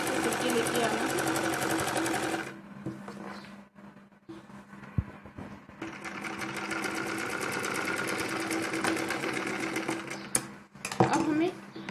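A sewing machine stitches a baby dress, its steady motor-driven needle rattle running loud and continuous with a few brief pauses and restarts, while someone talks throughout.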